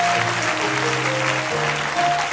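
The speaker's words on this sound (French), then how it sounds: "Acclame." A church congregation applauds and cheers during a sermon, a dense, moderately loud wash of clapping with raised voices and sustained tones running beneath it for a couple of seconds.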